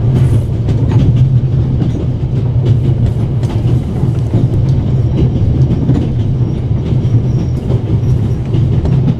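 In the video game The Raven Remastered, a moving train produces a loud, continuous low rumble with faint rhythmic clacking of wheels, as if heard from inside a carriage.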